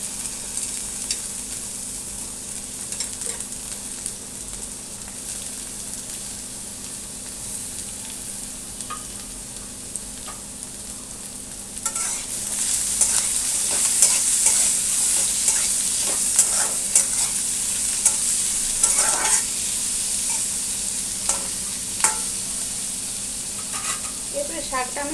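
Lightly fried potatoes with eggplant added on top, sizzling in a pan, a steady low frying hiss that swells louder halfway through with scattered stirring scrapes and clicks.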